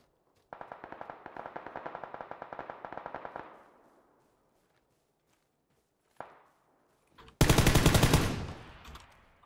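Automatic gunfire in PUBG from an enemy hidden in a bush: a rapid burst of shots lasting about three seconds, then a single crack, then a louder, nearer burst, with silence between.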